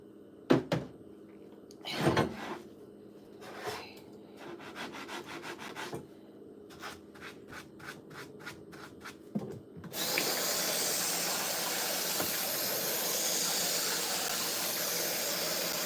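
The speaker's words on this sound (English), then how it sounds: "Scrub on it for a few minutes." Close, steady scrubbing on a kitchen stove to clear spilled soup: short rubbing strokes in irregular bursts, then a continuous loud scouring noise for the last several seconds, with no talking.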